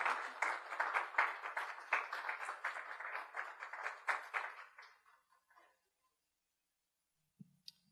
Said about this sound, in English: it is you who deserve the applause